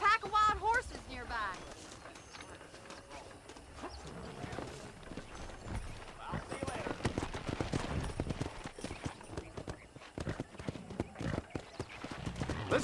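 Horse hooves clip-clopping in the Red Dead Redemption western game while hunting wild horses near a ranch, a steady galloping rhythm with an occasional whinny, over music and brief talk.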